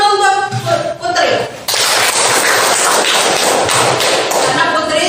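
A classroom of students claps for a classmate, with a burst of dense, sharp clapping starting after a teacher's voice and continuing loud and steady to the end.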